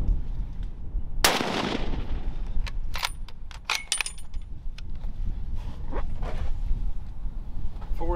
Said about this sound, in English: I'm going to shoot off the truck too.